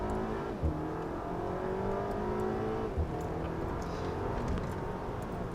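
Volkswagen Golf GTI Mk6 in sports mode accelerating on a road near Auckland, with a steady, loud engine drone whose harmonics climb through the gears and a couple of brief thumps, no talking.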